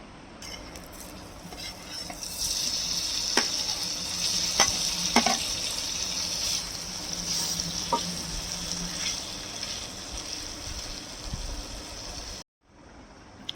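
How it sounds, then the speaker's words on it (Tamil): Paneer pieces fry in butter in a pan with a steady close sizzle, while a utensil stirs and scrapes with occasional clinks before the sound cuts off near the end. "பன்னீரை நம்ம பட்டர் போட்டு கொஞ்சம் ஃப்ரை பண்ணி எடுத்துக்கலாம்."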